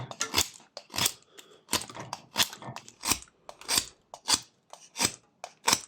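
Knife blade whittling a block of wood while carving a small sleeping koala figure, a run of short, crisp shaving and scraping strokes repeating steadily at close range with brief pauses between cuts.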